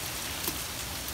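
Steady rain falling outdoors, a dense even hiss filling the whole short moment at low level with no voices over it.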